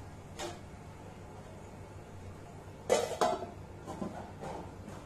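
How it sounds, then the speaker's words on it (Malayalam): A lid is set over a frying pan holding bread pancake cooking on low flame, giving a couple of close metallic clanks and clinks around the middle, then softer knocks against a quiet kitchen background. "ഞാനിത് മൂടി വയ്ക്കുകയാണ്."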